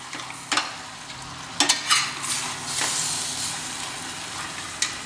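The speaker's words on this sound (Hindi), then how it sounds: "आप देखिए कि मैं इसको भून रहा हूँ" Chicken coated in masala is stir-fried in a pan, producing a steady close sizzle broken by sharp scraping strokes of a spoon against the metal, with no voices.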